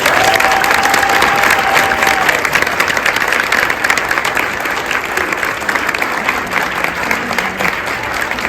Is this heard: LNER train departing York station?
no